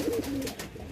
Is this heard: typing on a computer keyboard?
no